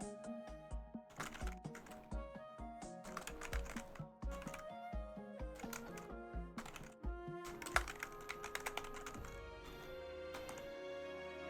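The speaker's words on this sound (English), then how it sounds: "You're probably going to get to hear some typing noises as well" Typing on a computer keyboard, rapid clustered key clicks in irregular bursts with brief pauses, close and clear over faint background music.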